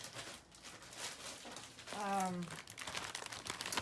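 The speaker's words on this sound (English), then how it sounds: "Let's see how much crinkly noise I can make that annoys you guys, because my bag is loud." Loud plastic bag crinkling and rustling in continuous, close-up bursts during a Christmas-in-July craft project, with a person talking over part of it.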